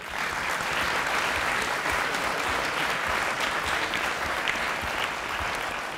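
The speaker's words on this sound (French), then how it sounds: "On peut aussi les applaudir." An audience in a hall applauds the jury members at a French national debate competition, a dense, steady wash of clapping hands that carries at constant loudness for the full stretch, with no voices breaking through.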